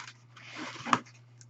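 Tarot cards are shuffled by hand in a short, faint riffle of papery rustling that ends with a soft snap, close and quiet with no one talking.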